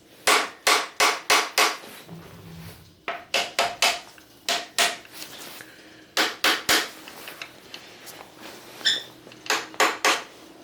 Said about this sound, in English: with a hammer, I'm just going to very gently kind of tap to separate.